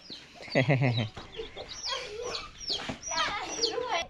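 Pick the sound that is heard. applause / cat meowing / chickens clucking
chickens clucking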